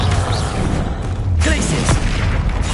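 A Bombarda blasting spell goes off in Hogwarts Legacy during a troll fight, a deep booming explosion with a sharp burst midway, layered over dense game noise and low rumble.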